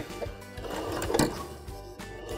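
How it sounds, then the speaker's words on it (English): A sewing machine stitches elastic along the edge of a shirt at the presser foot, a quiet, steady whirring run that pauses briefly before resuming. "line up the edge of our elastic right here in the middle of the groove of the presser foot and start stitching"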